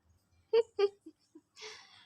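Two short, clear meows close together, a couple of softer chirps, then a longer breathy, rasping cry, close and otherwise quiet.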